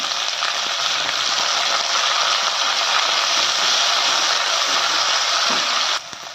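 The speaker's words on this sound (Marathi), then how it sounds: "हा कांदा आणि टमॅटो चांगला परतून घेऊया" Onion and tomato sautéing in a hot pan for a vegetable masala uttapam topping, a steady, loud close-up sizzle holding evenly for about six seconds before dropping off abruptly.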